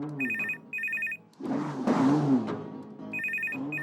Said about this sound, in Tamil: போன் ரிங் ஆகுதுல, காது கேக்கலையா?